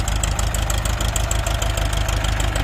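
A Ford 6640 tractor engine runs steadily at low revs, a loud, close diesel chugging with even rhythmic knocks, used for planting sugarcane, with no voices.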